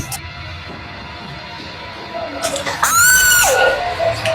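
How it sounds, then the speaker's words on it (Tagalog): A person screams loudly near the end, a sharp rising shriek that bends and falls away, after quieter background noise and talk. "ano ba sinisigaw-sigaw mo?"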